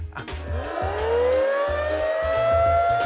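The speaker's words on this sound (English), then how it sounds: "the siren goes off, but they're so busy singing, they don't even hear it" A loud siren at the Apollo Theater wails, its pitch sweeping upward and holding steady, with a rhythmic low pulsing underneath.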